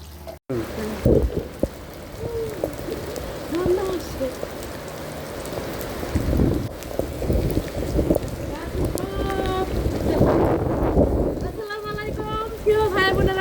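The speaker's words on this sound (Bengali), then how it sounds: "আজকে দেখেন প্রচন্ড বৃষ্টির মধ্যে, ঝড় বৃষ্টি, এর মধ্যে ছাদে চলে আসলাম বৃষ্টিতে ভিজবো" Heavy rain and a windy storm pour steadily onto a rooftop, a dense continuous wash of drops with gusty noise, while people talk over it throughout.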